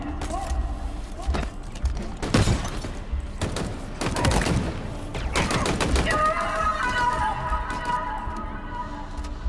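Rapid bursts of gunfire from a fast-firing pistol in the video game Halo Infinite, loud repeated volleys with booming impacts and game effects, punctuated by short pauses.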